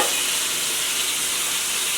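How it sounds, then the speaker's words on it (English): Pork chops sear in a pan of hot vegetable oil, giving off a steady, close, unbroken sizzle and crackle that holds evenly from start to finish, with no voices. "I put them in a pan with vegetable oil. Okay, and I have them cooking on one side."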